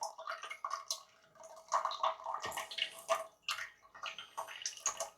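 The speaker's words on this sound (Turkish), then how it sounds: "Bu TDS 0 su biraz aksın" Purified TDS 0 water runs from a tap, splashing and trickling in an irregular, close stream with small gurgles and drips, moderately quiet and with no speech.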